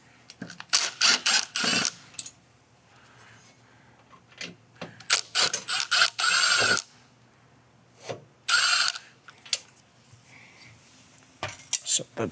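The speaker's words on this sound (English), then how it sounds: "I'm gonna undo these machine screws." Machine screws being undone from an old door faceplate with a hand tool: close clicks, scrapes and metallic rattles in short bursts with pauses between them.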